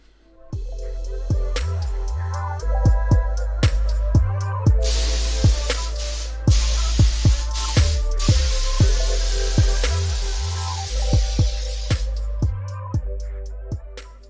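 A nightstand is spray painted with a spray gun, and the paint hiss comes through as a loud, continuous spray. It is broken by a steady rhythm of sharp, regular clicks, with background music running throughout.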